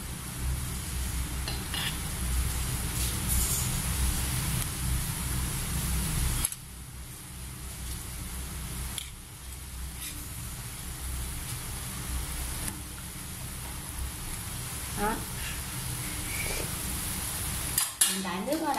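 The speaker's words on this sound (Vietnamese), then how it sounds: "Nước sôi bồng lên rồi thì giờ mình cho cua vào luôn." Water boiling vigorously in a pot for a Ca Mau sea crab hotpot, a dense bubbling hiss with occasional clinks of utensils against the pot.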